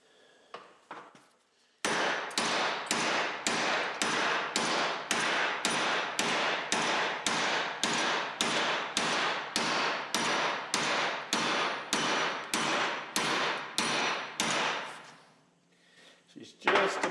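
Steady, evenly spaced hammer blows on a part clamped in a vise during a Model TT Ford chassis build, roughly a dozen and a half loud metallic strikes close by, with no talk.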